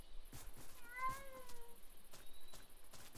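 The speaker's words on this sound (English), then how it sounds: "I say why there's a freaking cats roaming around there." A cat in the video game Minecraft lets out a single quiet meow in the middle of the clip, surrounded by soft clicks and faint game background sounds.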